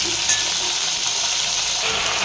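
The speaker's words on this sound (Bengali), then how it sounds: "পেঁয়াজ আর কাঁচা লঙ্কা একসাথে দিয়ে দিলাম। এবারে ভালো করে মিক্স করে নিই, ভাজা ভাজা হয়ে যাক" Onion, potato and green chilli frying together in oil in a pan, a steady close hiss and sizzle with faint stirring, no talk.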